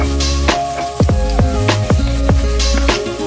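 Chopped onion and ginger go into a hot pan and sizzle steadily, a close and continuous frying crackle joined by soft tonal sounds that rise and fall.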